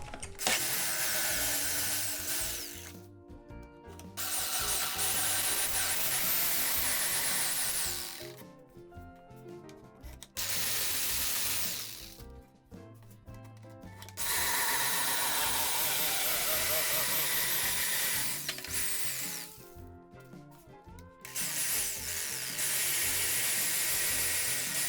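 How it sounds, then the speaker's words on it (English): A jigsaw cuts through a bar-top arcade cabinet panel, its motor surging loud and harsh in long bursts as the throttle is eased on and off, with short near-silent pauses between runs. "Now you might be able to hear that I'm feathering the throttle on the jigsaw"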